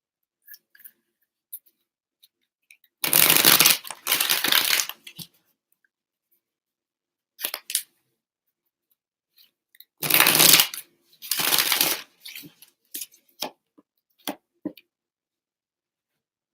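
Tarot cards are shuffled in two main bursts of riffling, each about two seconds long, with brief card taps and slaps in between and at the end. No voices are heard.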